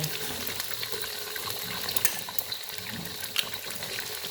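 Garlic frying in a pan for egg fried rice, a continuous soft sizzle with scattered small crackles and pops, fairly quiet and close, with no talking.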